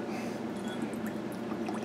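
Hydrogen peroxide poured from a cup into a container of rinse water for pea shoot seeds, a steady close liquid pour with bubbling splash that runs unbroken for the whole stretch.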